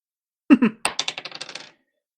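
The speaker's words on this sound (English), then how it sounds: "Then I'll roll another dice." Dice clatter onto a hard tabletop, two heavy knocks followed by a quick rattling run of smaller bounces that fade out in about a second, close and crisp with no talk over it.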